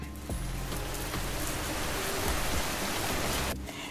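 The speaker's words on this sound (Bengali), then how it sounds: "আর ঘুম থেকে উঠেই দেখি মুষলধারে বৃষ্টি হচ্ছে।" Heavy rain pours down steadily at a resort in Gazipur, a dense, loud, continuous wash of drops on surfaces with scattered heavier splashes, briefly dropping off near the end.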